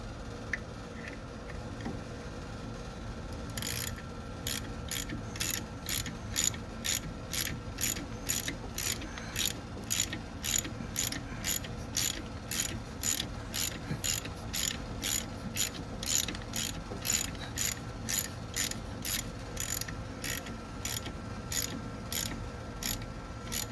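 Ratchet with a chrome socket working on a 2016 Shelby GT350 engine during a rebuild, a long run of steady, evenly paced clicking strokes, close and clear with no talk.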